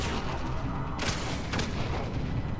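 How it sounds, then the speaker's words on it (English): A pistol-style grenade launcher fires in the video game Mass Effect 3, with two quick sharp blasts about half a second apart over a dense, constant background of game noise. "It's a grenade launcher, but it's a pistol."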